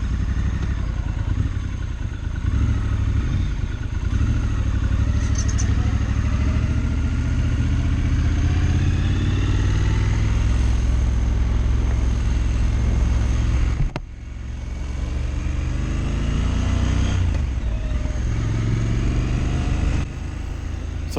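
A 2022 Triumph Scrambler XC motorcycle engine runs steadily throughout, loud and close with heavy wind rumble, the note dipping briefly twice as the rider eases off before pulling on again.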